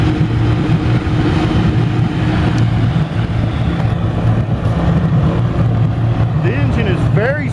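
A 2004 Mercury 60 hp outboard engine drives a boat at cruising speed of around 3,200 RPM, giving a loud, continuous, even drone with a low hum and no breaks.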